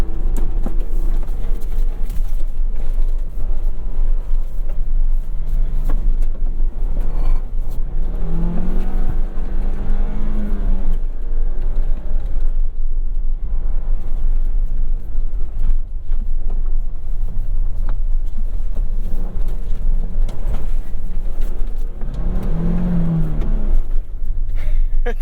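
A 2023 Ford Bronco Heritage with a seven-speed manual transmission pulls hard in first gear, a steady loud engine drone rising and falling in pitch as it accelerates, with wind and road rumble throughout.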